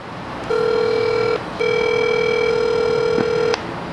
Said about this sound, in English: Call Dirty Ern on speakerphone.